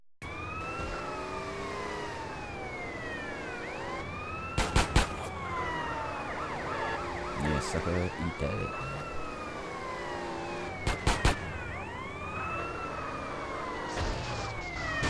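Police sirens in the video game GTA San Andreas, several wailing, overlapping sirens sweeping up and down throughout during a chase, with a few sharp bangs and a voice speaking briefly.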